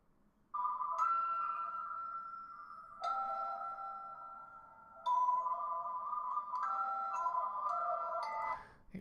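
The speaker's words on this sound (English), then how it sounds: "It's a little bit haunting, but at least it's very much a lullaby, right?" Lullaby music generated by the MusicGen AI model, with a haunting tone: sustained tonal phrases with brief high chimes, moderately loud and steady, with no voices.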